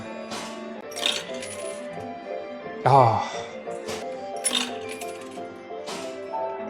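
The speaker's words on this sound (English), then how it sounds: "We need to bunch up the coins so that they fall off the edge" Coins drop in an old penny arcade coin pusher machine: repeated metallic clinks and rattles among the coins, with one louder cascade partway through, all over a steady arcade hum while a voice briefly exclaims.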